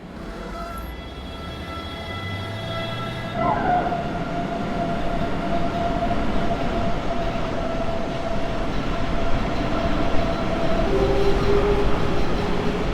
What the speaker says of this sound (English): the sounds haven't changed from the München variant, leaving us with the wrong traction inverter sounds for what's supposed to be the S-Bahn Rhein-Main variant